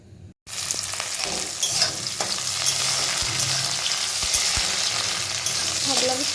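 Vegetables fry in a pan for a chicken chowmein, with a loud, continuous sizzle close up and scattered scrapes and knocks from stirring.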